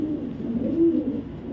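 A female racing pigeon, raced 27 or 28 times, coos in low, throaty, rolling murmurs that swell and ease close by, with no talking over them.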